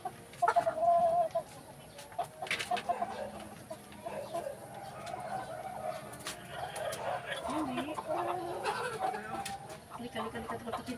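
Native chicken hen descended from Rhode Island Red stock, clucking in short repeated bursts close by, with a person talking over much of it.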